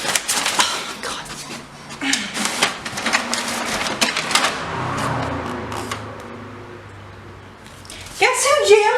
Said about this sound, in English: Guess who jammed the printer?